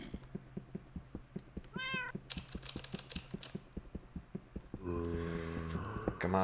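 A Minecraft cat meows once, short and clear, over a steady clicking rhythm from keyboard and mouse, and a louder tonal game sound enters near the end.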